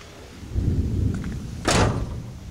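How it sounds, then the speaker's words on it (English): Distant thunder from a storm moving in over an outdoor workshop, heard as a low rumble that swells and then gives way to a louder, broader crack-like burst near the end, with no talk. "And there's the storm moving in again."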